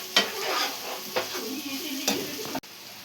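Onions and ginger paste fry in a pan with a bright close sizzle, punctuated by a few sharp stirring scrapes and clinks before a sudden stop.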